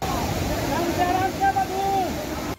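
Fast-flowing floodwater during heavy rain in Bangalore roars as a loud, continuous rush, with faint voices and a wavering tonal sound rising and falling over the torrent.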